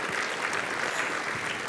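Steady applause from a conference audience at the end of a talk on unbiased AI, even and continuous throughout with no voices on top.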